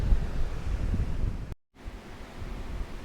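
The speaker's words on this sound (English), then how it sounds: "very windy, very strong conditions. Waves are quite rough." Rough sea surf and strong wind on a very windy day, a loud continuous roar of crashing waves and buffeting wind noise, briefly cutting out midway before resuming.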